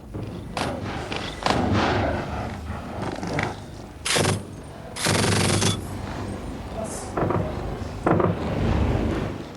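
Rounds fired at a besieged government fort during the Afghan war, with Mujahideen fighters firing: repeated loud booming bursts and thuds spread across the scene, mixed with background noise and indistinct voices.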